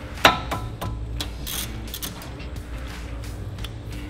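A hand ratchet works on a brake caliper bolt of a Nissan 350Z with base brakes, giving a quick run of close clicking pawl strokes after a sharp initial knock, steady over a low workshop hum with no talk.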